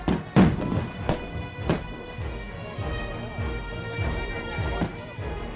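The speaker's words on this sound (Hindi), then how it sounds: "इसी बीच आप कुछ और धमाके सुन सकते हैं" Explosions during a military demonstration of a live para commando operation, several sharp booms echoing over a steady rumbling outdoor background, loud and spaced irregularly.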